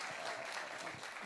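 An audience at a Kuchipudi dance debut performance claps in a steady, dense round of applause, soft and somewhat distant in the hall.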